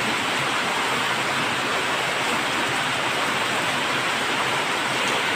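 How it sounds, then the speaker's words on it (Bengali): Heavy rain pouring outside, a dense, loud, unbroken wash of broadband noise that holds steady throughout with no voices. "তো যে বাইরে প্রচণ্ড বৃষ্টি শুরু হয়ে গেছে"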